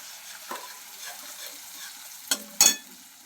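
Ginger, chili and garlic paste sautéing for a Surat-style green brinjal curry, heard as a faint low sizzle with a few sharp spoon scrapes and clinks near the end, no talk.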